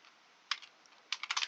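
Keys tapped on a computer keyboard while entering code in a game GUI script: a short burst of clicks, a pause, then a quicker run of several keystrokes, close and fairly quiet.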